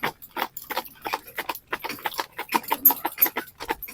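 A cob horse jogs along, its hooves clip-clopping in a quick, steady rhythm of close, crisp footfalls with no talking.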